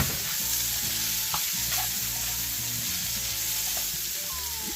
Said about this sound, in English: Cook the onion just lightly